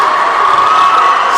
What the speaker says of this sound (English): As the crowd comes alive